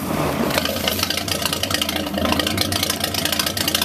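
A 1946 Chris Craft Brightside U22 boat engine idles in the water with a rough, barking, steady rhythmic exhaust, loud and close, running alone without talk.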